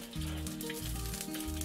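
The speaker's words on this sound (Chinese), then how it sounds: "然后舀上热油 浇在鱼身上" Hot oil ladled over a bluethroat wrasse frying in a wok gives a steady, close sizzle that runs throughout, with a low tonal hum underneath.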